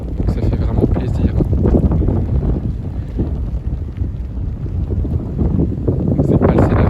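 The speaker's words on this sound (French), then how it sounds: "C'est un vent déjà bien fort à faire ressortir les passionnés de météo." Strong gale-force wind from a winter storm buffets the microphone in heavy, rumbling gusts that rise and fall without pause, with no voices heard.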